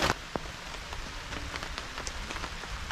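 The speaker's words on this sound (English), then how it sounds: "here comes the rain" Rain begins falling at a lakeside provincial park campsite, a steady patter of scattered drops hitting surfaces nearby with occasional sharper taps, no voices.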